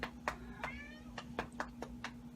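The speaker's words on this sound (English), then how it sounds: "if you hear meowing, that's my cat Zippy." A pet cat meows repeatedly, about eight short calls in an uneven rhythm, faint and close, over a steady low electrical hum.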